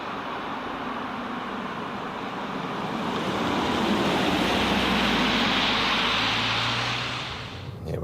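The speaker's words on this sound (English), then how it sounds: "Here we are on the motorway." Steady broadband road and wind noise from inside an Audi Q5 Sportback cruising on a motorway, a continuous rushing hum that swells slightly midway, with a low engine drone rising briefly near the end and no talking.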